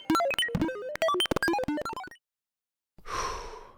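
An unstable dimensional rift portal malfunctions with a quick run of chirpy, squeaky electronic blips and tones, then a short gap of silence before a rough, noisy whoosh.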